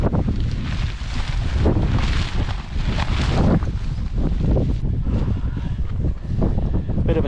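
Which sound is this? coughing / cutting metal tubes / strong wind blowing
strong wind blowing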